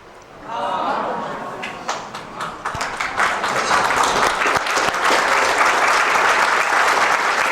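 An audience starts clapping after a short quiet moment. The applause quickly swells into loud, sustained clapping that stays strong to the end.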